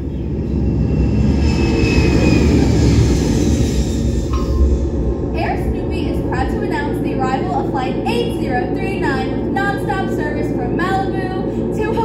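A staged airplane landing at the Carowinds theme park show roars loudly with a sustained engine drone, steady and near, while performers' voices chatter and call out over it during the second half.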